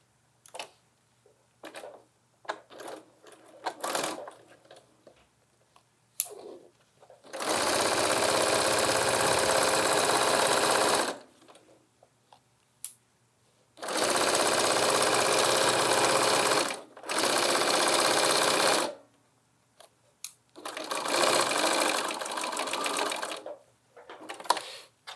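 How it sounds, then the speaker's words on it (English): A sewing machine stitches up the side of a lined tote bag in several long, loud, steady runs of rapid mechanical whirring, separated by quiet pauses with small clicks and handling noises. "I'm just going to sew all the way up."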